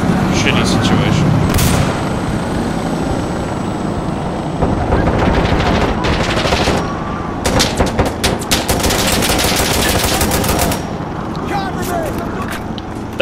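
Video game gunfire, loud bursts of automatic fire and booming impacts in dense clusters, with voices talking over the shooting throughout.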